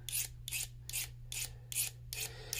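A knife blade scrapes in six steady rhythmic strokes across a diamond sharpening stone, each rasping pass close and distinct, with brief pauses between them and no talk.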